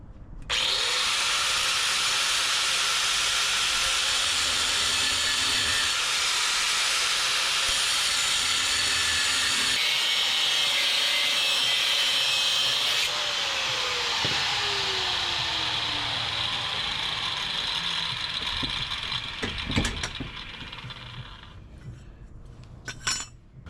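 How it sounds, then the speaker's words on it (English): Power tool cutting through a metal car exhaust pipe with a flange, a continuous harsh whining, hissing grind that shifts in pitch and ends with a few sharp scrapes. "So this is the piece that I cut off my exhaust system"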